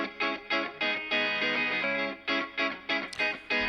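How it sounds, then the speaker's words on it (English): A clean Fender Stratocaster electric guitar, thickened by LA3A-style compression, plays a quick rhythmic pattern of short, bright strummed chords with brief gaps between them, up close and alone. "Now I'm running a bit of compression on these clean Strat electric guitars. They're just thickening it up a little bit with an LA3A from Black Rooster"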